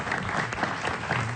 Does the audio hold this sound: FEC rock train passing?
no